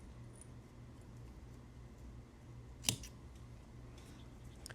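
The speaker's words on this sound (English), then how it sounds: "Now I'm gonna trim it before I put in the palmered hackle." A single quick snip of scissors trimming a crab fly at a fly-tying bench, one sharp brief cut in an otherwise quiet room with low steady background hum.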